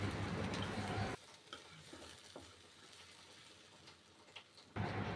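Tomato, ginger, garlic and green chili paste is stirred into frying chickpeas, a loud sizzle at first that drops to faint soft stirring and scraping, then returns to a strong frying hiss.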